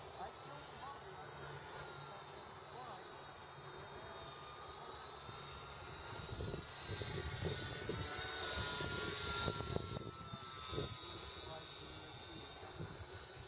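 An E-flite UMX Carbon Cub RC airplane motor whines steadily at a distance during flight at about half throttle, a thin buzzing drone that swells slightly midway, with a person talking over it.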